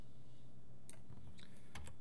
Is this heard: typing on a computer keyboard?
yes